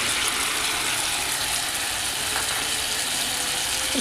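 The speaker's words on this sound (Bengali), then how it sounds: "লঙ্কার গুঁড়ো হলুদের গুঁড়ো দিয়ে বেশ অনেকটা সময় নিয়ে নাড়াচাড়া করে ভেজে নিলাম।" Chicken fries in a pan with chili and turmeric powder and a little water, giving a continuous close sizzle with occasional scraping from stirring.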